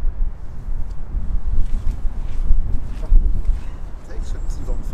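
A headwind on a golf course buffets a microphone in low, gusty rumbles, steady and close, with faint voices underneath.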